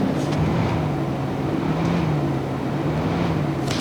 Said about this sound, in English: Notice the weird engine revving sound?